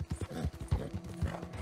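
A horse in Red Dead Redemption 2 moves along, its hooves thudding in a quick, rhythmic clip-clop close by, several beats in a short burst.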